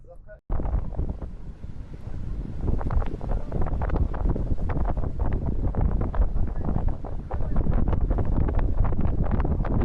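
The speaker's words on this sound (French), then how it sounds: "Il y a un peu de vent." Wind in the Moroccan desert, buffeting the microphone with loud, gusting roars that start abruptly and continue unbroken, while muffled voices sit underneath.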